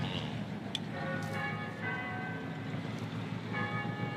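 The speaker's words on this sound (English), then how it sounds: "Those chimes sound familiar." Distant church bells ring a few slow, faint chimes over steady low background rumble.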